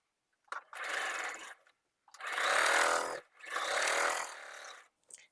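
A sewing machine stitches a long quilt block seam in three runs of steady, fast mechanical whirring, each a second or more long with short pauses between, close and clear with no voices.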